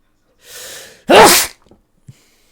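A single sharp sneeze, preceded by a brief breathy intake and followed by a few faint small sounds, heard close and alone.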